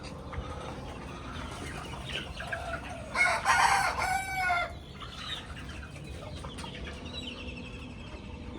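Roosters crowing and hens clucking among farm chickens for sale, one loud crow standing out mid-clip over steady background clucking and bird calls.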